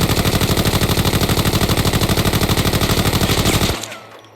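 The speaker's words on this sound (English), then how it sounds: "So scoping in and shooting." A new gun in the shooter game Arena Breakout fires a long, rapid automatic burst while aimed down the scope, loud and evenly paced, then cuts off into a fading tail.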